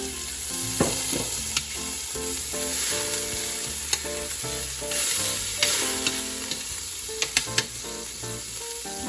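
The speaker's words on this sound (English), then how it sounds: "I'm gonna let the sausage fry first so I can have the flavor of the sausage." Sausage frying in melted butter in a pan, a bright continuous sizzle with stirring and a few clinks of utensils, under background music and no talk.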